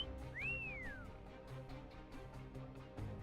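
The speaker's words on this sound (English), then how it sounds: "That's a cat call whistle." A single rising-then-falling catcall whistle in the game Arknights, a clear sweeping tone heard once over soft ambient music and a quiet low background.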